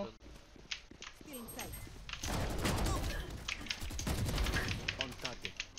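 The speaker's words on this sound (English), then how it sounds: "They're getting tilted because I'm using a shotgun." Gunfire from a Judge shotgun in Valorant rings out in sharp repeated bursts, with speech running underneath the shots.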